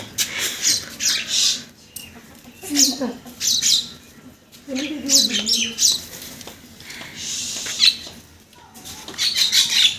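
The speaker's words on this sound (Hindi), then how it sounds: "चिड़ियों को उड़ा रही है जी ऊपर से। बहुत शोर करती है।" Birds squawk and chirp in scattered bursts nearby, with people talking in between.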